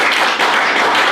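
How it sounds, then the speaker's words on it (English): A church homegroup congregation clapping their hands together in worship, a dense, loud and continuous wash of clapping close by with no distinct separate beats. "can we clap our hands to the Father?"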